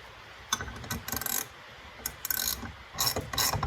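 A part is screwed into a Fiat gearbox during a rebuild, giving short ratcheting clicks in uneven bursts with metallic rattles between them, close and alone without talk.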